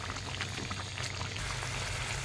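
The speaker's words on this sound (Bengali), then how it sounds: "দেখো বেগুন সিদ্ধ হয়ে গেছে" Brinjal cooks in a pot, a faint, continuous bubbling simmer with a low steady hum underneath, heard close with no talk.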